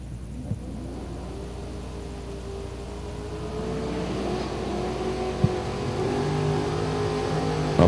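A Camaro at a drag strip bracket race rumbles with a steady loud engine drone that rises in pitch as it revs, with a few sharp clunks along the way.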